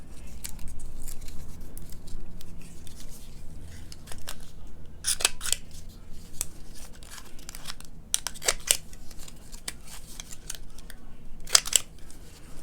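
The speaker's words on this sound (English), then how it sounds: "I think I'm going to let me see if I can round these corners." A Crafter's Companion corner rounder punches the corners of a card, producing a handful of sharp, crisp clicks and snaps spaced irregularly over a quiet background, close and fairly loud, with no talking.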